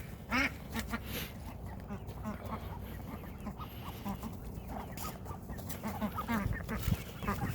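A flock of ducks quacking continuously nearby on a farm, mixed with clucking chickens, busy and overlapping without pause.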